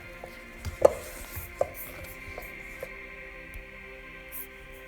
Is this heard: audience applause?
no